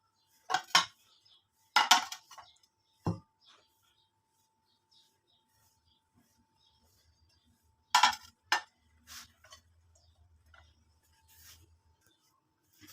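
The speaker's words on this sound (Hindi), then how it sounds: "अपनी प्लेट्स को इस तरह इनके अंदर रखते जाना है और ऊपर प्लेट रख देनी है।" Ceramic dinner plates stacked one inside another with cloth between them in a home kitchen, giving a few sharp clinks and clatters in separate bursts with quiet gaps, with a soft low rustle near the end.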